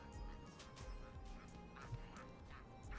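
A Chicken wings Bugsnax creature in the game Bugsnax gives repeated honking, quacking calls in short bursts, faint and scattered over a noisy background.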